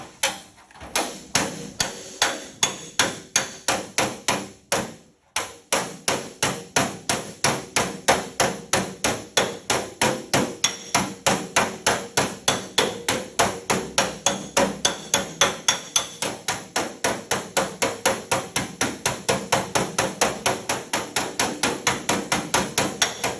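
Rapid, evenly paced hammer blows ring out loud and close as an aluminium Porsche 928 fender is panel beaten, with a short pause near the start before a long, steady run of strikes.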